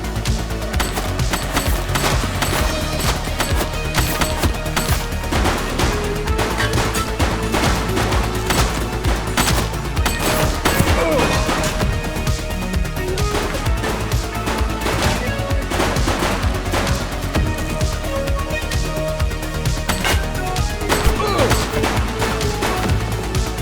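Sustained gunfire from a police game, The Precinct: dense, continuous bursts and rattling shots fill the whole stretch at steady loudness, layered with music and other game sounds.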